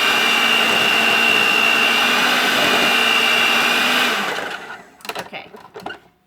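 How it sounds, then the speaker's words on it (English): An electric mixer beats hot cream puff dough of flour and a hot liquid mixture in a bowl, a loud steady motor whir running for about four seconds, then cutting off, followed by a few bowl and utensil knocks. "So then you're going to mix it around."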